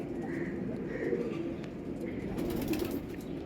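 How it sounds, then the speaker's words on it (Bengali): Soft, low coos from young pigeons repeat a few times against a murmuring background, fairly faint and close. "খুব সুন্দর পায়রা"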